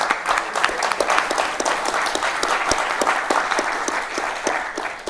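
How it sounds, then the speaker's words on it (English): Audience clapping for panelists at a data science event, a dense, lively burst of applause close by with sharp individual claps, lasting about five seconds. "another round of applause to our panelists"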